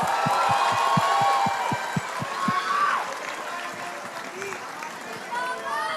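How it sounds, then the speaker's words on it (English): A large esports playoff crowd at an MPL Philippines match claps and cheers for team Falcons APBren, with a run of steady low thumps in the first few seconds, then a sustained roar that slowly thins. An announcer's voice rides on top. "let's give Falcons APBren a big round of applause"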